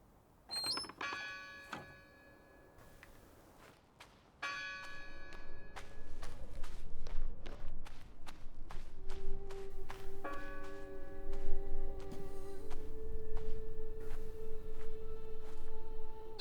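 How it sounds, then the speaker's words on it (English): Bell ringing in the Druagen video game on Xbox One: a series of bright metallic strikes with long ringing overtones, some isolated and some in quick clusters, with soft footstep-like thuds underneath. "Somebody is definitely here ringing the bell."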